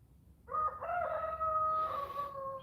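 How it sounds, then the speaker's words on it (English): A rooster crows close by, one long loud cock-a-doodle-doo with a rising start and a sustained drawn-out call over faint background hum, no talking. "And my rooster, he's bitching."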